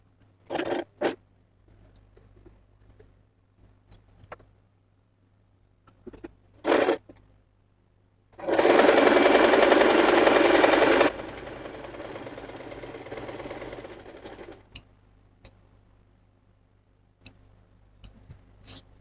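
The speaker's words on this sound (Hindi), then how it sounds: "फिर यहाँ से भी हम इसको स्टिच लगा लेंगे।" A sewing machine stitches a baby blouse, a dense continuous whir that runs for a few seconds then drops to a softer steady run, framed by scattered clicks and handling taps in a quiet room.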